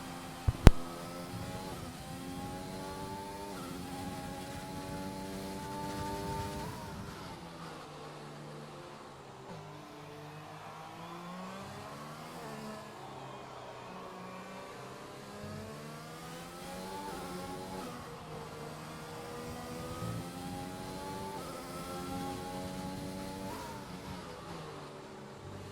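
An F1 car on an onboard lap around Australia in a racing video game, its engine revving up and dropping back through repeated gear changes in a steady, continuous drone with no talk.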